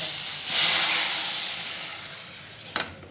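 A loud sizzling hiss bursts up as water hits a hot pan of ghee while making pineapple kesari, slowly fading to a softer steam, with a brief clatter near the end.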